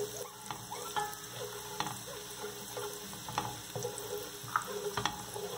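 Garlic fries in a pan, a steady sizzle with occasional scrapes and stirring clicks, close and moderately loud.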